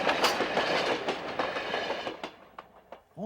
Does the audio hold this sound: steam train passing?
yes